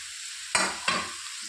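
Ridge gourd pieces sizzle in a hot pan, with two loud stirring scrapes over a soft frying hiss, close and without any voices.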